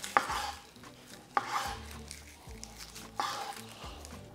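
A knife chops an onion on a cutting board in three separate sharp strikes, each followed by quiet scraping and handling noise in a fairly quiet kitchen.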